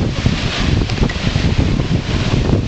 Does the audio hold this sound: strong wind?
yes